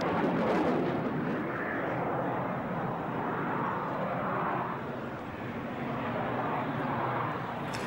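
A Royal Air Force jet flies past at the RIAT 2004 airshow, a broad, roaring engine noise that holds strong for several seconds, dips briefly and swells again, with a voice talking over it.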